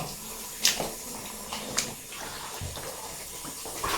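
Water runs steadily inside an old water mill, a constant rushing flow with a few sharp knocks and splashes over it, heard close up for several seconds.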